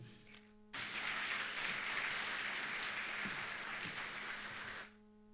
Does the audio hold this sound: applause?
yes